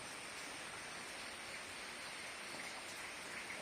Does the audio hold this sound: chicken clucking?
no